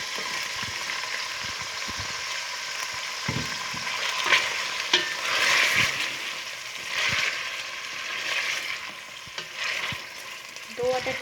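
Chicken and tomatoes fry together in a pan for homemade dum biryani, giving a steady close sizzle broken by frequent scraping stirs and light clatter, with no talking.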